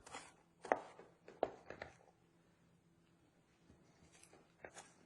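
Something is chopped up in a small kitchen setting: a few sharp, close knife knocks come early and again near the end, with quieter handling noise between.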